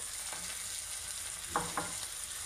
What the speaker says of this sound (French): Et je vais introduire mon lait de coco.